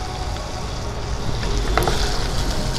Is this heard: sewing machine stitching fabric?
no